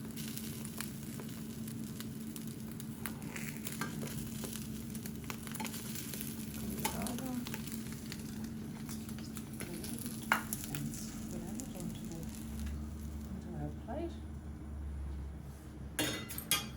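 Egg omelette cooking in a frying pan, with a steady low sizzle running throughout, occasional stirring clinks and light scrapes, and a brief deeper rumble near the end.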